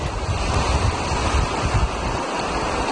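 High sea waves crash against an eroding coastline, a loud continuous roar of surf with wind rumble throughout and no voices.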